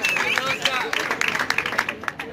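Spectators at an event in Ibagué applaud as a judge is introduced: a short burst of scattered clapping under a voice that keeps talking.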